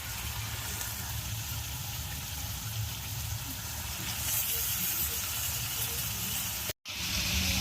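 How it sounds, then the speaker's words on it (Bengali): Chicken pieces frying in a thick spice masala at an outdoor picnic cook-up, a continuous close hissing sizzle that swells louder toward the end, broken by a brief cut. "এখন মাংসটাকে ভালো করে কষানো হচ্ছে"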